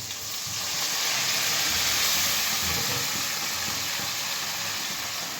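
Water poured into a pan of fried potatoes and onions hisses and sizzles loudly, swelling into a steady steamy crackle that slowly fades, close by and alone.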